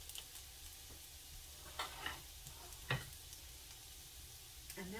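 Hashbrowns frying in a pan give a steady, quiet sizzle, with a few brief clicks and scrapes on top, close by and with no talk.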